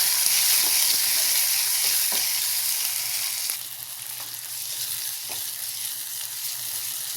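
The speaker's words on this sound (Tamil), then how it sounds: "நல்ல வெங்காயம் வதங்கட்டும்." Onion and curry leaves sautéing in a pan for sambar make a bright, hissing sizzle close by, louder at first and then settling to a softer, even crackle, with no voices.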